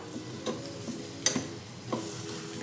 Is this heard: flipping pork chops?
yes